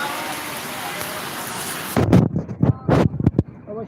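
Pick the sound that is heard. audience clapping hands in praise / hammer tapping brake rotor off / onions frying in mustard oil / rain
rain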